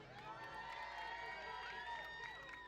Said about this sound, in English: Give Ellie a big cheer